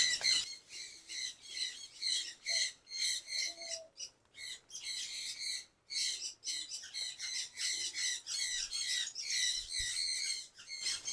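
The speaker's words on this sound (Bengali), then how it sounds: "এই দিকটাতে হচ্ছে গিয়ে কিছু পাখি আছে" A flock of birds squawks and chirps in an enclosure on a livestock farm. The shrill calls come close and almost nonstop, as quick bursts with short pauses, and no voices are heard.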